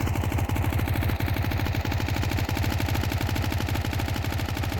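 Nonstop rapid machine gun fire in Counter-Strike 2, a dense, loud, evenly spaced stream of shots running unbroken for several seconds.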